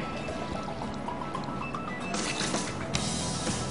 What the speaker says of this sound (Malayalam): ക്യാരറ്റ് അതിലേക്ക് കുറച്ച് വെള്ളം ഒഴിക്കുക